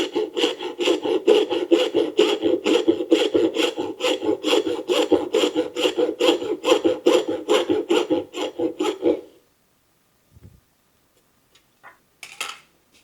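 Wood being sawn by hand for dovetails for a recipe box: a close, steady series of rasping push-and-pull strokes for about nine seconds, then silence broken by a few faint knocks and taps.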